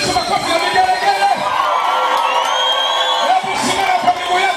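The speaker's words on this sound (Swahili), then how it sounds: "Pigia Yesu makofi na vigelegele." Church congregation in a Swahili-language service cheers with loud, sustained high ululation and shouting, dense crowd noise filling the space throughout.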